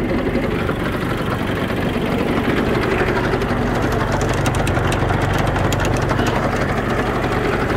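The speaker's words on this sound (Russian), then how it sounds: "Давайте проверим вал отбора мощности." Mitsubishi MT165 Japanese mini tractor with its engine running steadily and the power take-off shaft engaged, a constant close, loud mechanical drone with no breaks and no talking.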